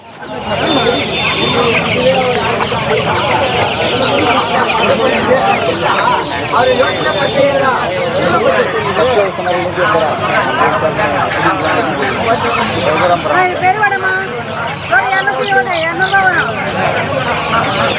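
Chickens cluck and squawk amid a busy crowd at the Pallavaram Friday market in Chennai, with steady chatter and people talking throughout.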